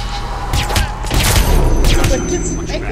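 Enemy gunfire in Hitman: Absolution comes as a loud, close flurry of shots and booming impacts over a heavy low rumble, with a voice speaking through part of it.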